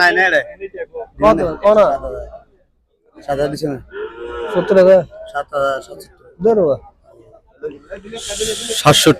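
Cattle low intermittently amid close-up talking voices at a busy cattle market in Fakirhat, Sitakunda, Chattogram, Bangladesh, with short pauses between the bursts of sound.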